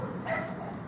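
A small neighborhood chihuahua and another dog give a brief, soft yip or bark, faint over room noise with no speech.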